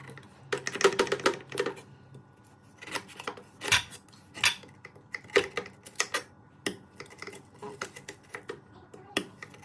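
Quick, light knife taps against a cutting board in rapid clusters, slicing something thin into rings for salmon head tom yum soup, steady and close with short gaps.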